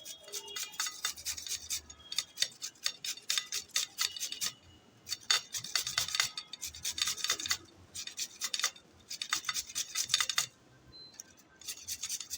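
Watermelon rind rubbed back and forth across the large holes of a hand grater gives close, steady rasping strokes in quick rhythmic bursts with brief pauses between runs.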